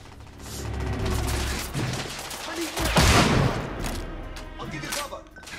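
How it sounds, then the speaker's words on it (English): Shotgun blasts and gunfire in The Order: 1886 video game, a dense loud burst peaking near the middle amid an ongoing firefight, with a voice speaking over the action. "It's a shotgun."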